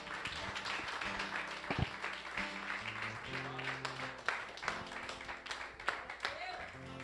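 Church congregation clapping steadily during an evening worship service, with rhythmic hand claps over music and voices.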